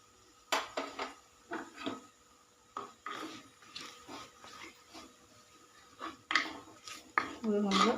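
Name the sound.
stirring fish curry masala with chili powder in pan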